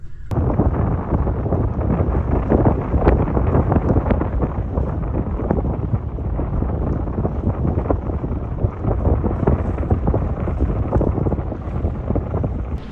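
Strong westerly wind buffets the microphone at North Stradbroke Island near Amity, a steady loud roar with low rumbling gusts throughout, no voices.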